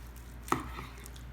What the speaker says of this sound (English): we're going to go ahead and slice this point up. We're going to do 1-inch cubes